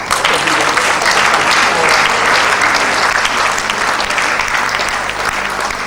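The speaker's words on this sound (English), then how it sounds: "I'd like us to do just one clap exercise" A conference audience of midwives clapping in unison, a loud, dense, steady wash of applause throughout with no pause.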